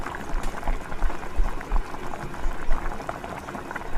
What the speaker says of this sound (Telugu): ఇది కొంచెం ఉడకాలి, ఆయిల్ పైకి తేలేదాకా బాగా స్లిమ్లో ఉడికించినాను.